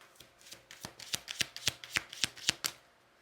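A deck of tarot cards is riffled and shuffled close by, about a dozen crisp slapping bursts in a quick, fairly even rhythm, with no voices over them.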